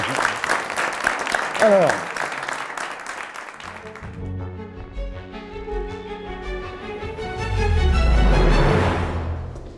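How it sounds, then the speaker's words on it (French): An audience at a start-up pitch event applauds a candidate. A voice talks over the first part, and the clapping and crowd noise swell loudly near the end. "on peut l'applaudir parce que c'est pas évident"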